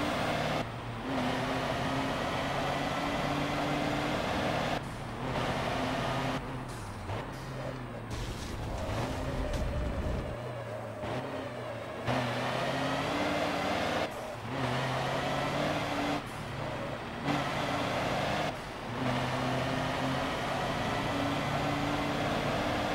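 A truck's engine droning steadily while driving in the racing game Forza Motorsport 7, with a continuous low hum interrupted by brief gear-shift dips and bursts of mechanical noise.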